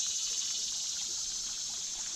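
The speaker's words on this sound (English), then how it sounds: "Hear how peaceful that water is." Steady water of the Buffalo River flowing past on a footpath, a continuous soft hiss that stays even and close throughout with no voices.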